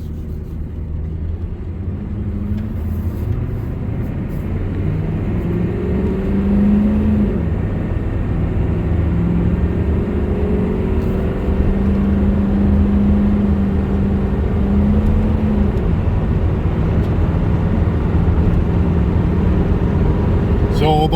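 A 6.5 Detroit diesel truck fitted with a GM5 turbo pulls onto a highway, its steady low engine rumble swelling as it accelerates, with someone talking over the noise.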